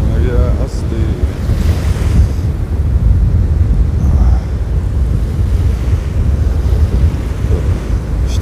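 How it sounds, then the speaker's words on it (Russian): A cool southerly wind blows across a sandy Black Sea beach at Anapa, with steady rumbling surf and gusty wind buffeting the microphone, loud and close, no voices. "прям прохладный такой южак дует"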